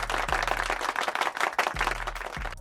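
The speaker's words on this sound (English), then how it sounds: "Round of applause for Jayson Tatum." Sustained applause from a basketball crowd at a Houston Rockets game, loud and continuous clapping throughout with a few brief low thumps underneath.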